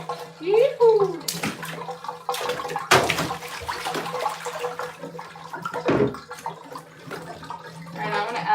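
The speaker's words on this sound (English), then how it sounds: "I'm gonna add more hot water." Hot water runs from a tap into a tub with splashing and gurgling, fairly close and steady for several seconds, while a voice talks intermittently over it.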